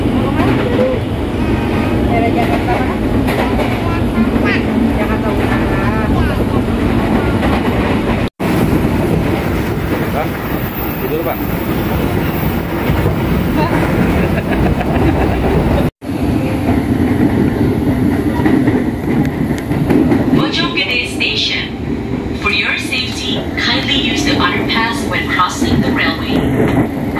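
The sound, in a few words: KRL Commuter Line train riding on the rails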